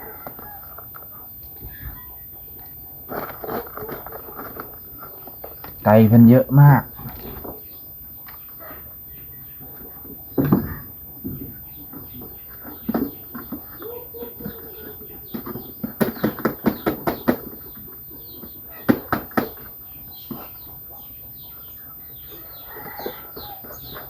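Chickens kept by a household cluck at feeding time, with bursts of clucking and a few louder squawks and wing flaps scattered among quieter stretches, under occasional speech.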